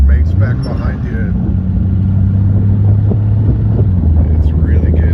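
A Corvair engine mounted behind the driver in a barn-find belly tanker jet car gives a steady, low rumble that runs throughout, mixed with wind buffeting.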